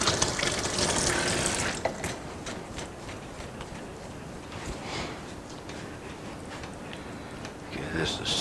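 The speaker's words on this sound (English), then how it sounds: "Wash your hands." Hands being washed under a running kitchen sink tap while cooking a smoked beef pot pie, a steady splashing water stream, louder at first and then settling into a softer flow, with brief clatters.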